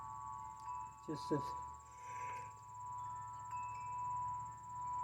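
Crickets chirp in a continuous high, steady trill through the whole stretch, with a brief bit of quiet talk partway through.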